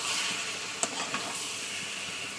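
Pumpkin and potato stir-fry with spices in oil, giving a steady, quiet sizzle. A couple of sharp stirring taps cut through it, with no voices.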